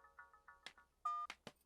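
A telephone being dialed in a Telugu comedy film scene from Sarrainodu: a few short, evenly spaced beeps, a sharp click, a longer held tone, then more clicks. Close and clear, with no talking.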